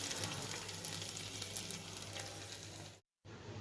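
A fried onion and garlic tempering hisses onto a pot of dal in a loud, steady sizzle up close, broken by a brief silent gap just before the end.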